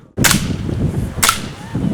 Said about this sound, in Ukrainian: А тут вчаться стріляти.